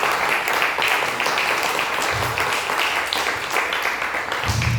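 A church congregation claps together in a steady burst of applause, the sound dense and continuous across the hall, with a few low thumps mixed in.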